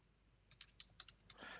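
Keystrokes on a computer keyboard as a command is typed into a Linux terminal on Ubuntu Server, a quick irregular run of about ten clicks ending in a denser burst, close and fairly quiet with no speech.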